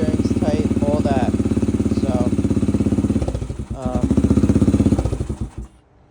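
A rebuilt 2004 Yamaha TTR 125 dirt bike engine runs close by with a steady, rapid putter, rising briefly in pitch and then cutting off at the end, with a person talking over it.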